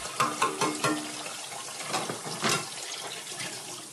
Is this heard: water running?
yes